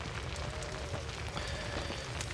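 Steady rain falls in the horror video game Outlast, a continuous hiss of droplets with faint scattered patters, filling the scene evenly without any voices.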